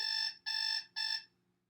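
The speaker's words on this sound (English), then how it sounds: "Every morning my alarm clock wakes me up for school." An alarm clock rings in three loud electronic bursts, each about a third of a second long with brief gaps, the last one fading into silence.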